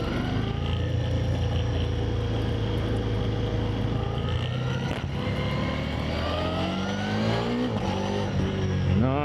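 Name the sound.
Ducati XDiavel V4 motorcycle accelerating hard in sport mode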